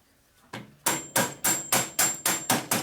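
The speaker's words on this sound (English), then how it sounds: "Just a hammer." A hammer strikes metal eight times in a steady, even rhythm, each blow sharp and ringing with a faint metallic tone, close and alone, during repair work on a 1988 Harley-Davidson FXR motorcycle.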